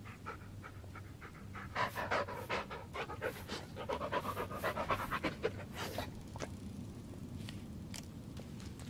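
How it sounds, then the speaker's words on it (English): Bullet the dog from the Blair Witch video game pants rapidly and close by, quick breathy bursts that swell louder mid-way and then settle to softer panting. "Good dog."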